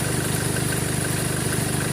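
An idling 2013 Chevrolet Colorado engine hums steadily and loudly up close, with a faint rapid ticking from a faulty alternator pulley running through the drone.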